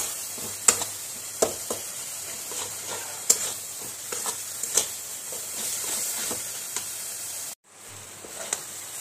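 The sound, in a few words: jaggery modak filling being fried in a pan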